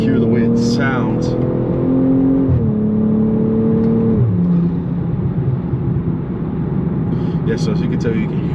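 A BMW M240i's engine pulling lightly under moderate acceleration, rising then dropping in pitch through gear changes, a steady drone with road and wind noise in traffic, and a brief voice near the start.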